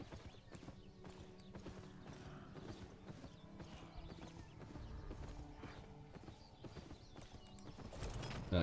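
Steady clip-clop of horse hooves in the video game Albion Online, a brisk even trot heard fairly close and moderately loud, with faint clicks over it and no one speaking.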